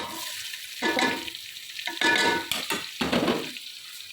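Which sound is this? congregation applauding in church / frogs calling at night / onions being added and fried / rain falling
onions being added and fried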